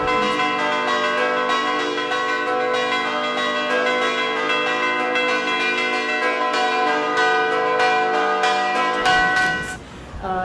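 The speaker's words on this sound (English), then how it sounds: "on the other bells, bell chimers are chiming bell chiming tunes" Church bells ring together in a dense, sustained wash of overlapping tones, with chimers striking tunes on fixed bells while others swing, loud and continuous before a sudden change near the end.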